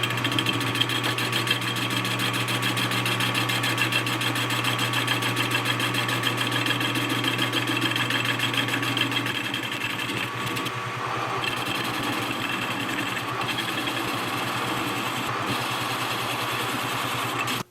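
A carbide cutting tool machining metal during a hydraulic supply repair on a Case 170B excavator, producing a loud, steady mechanical whir with a continuous tone and no talk.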